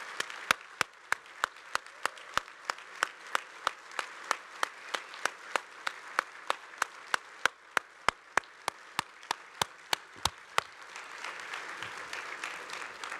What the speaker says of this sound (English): please stand right now so we can give you another round of applause